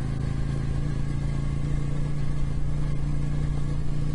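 An off-road motorcycle engine hums steadily while riding along fire trails, a constant mid-pitched drone with a firm low tone and wind rush, loud and unbroken throughout.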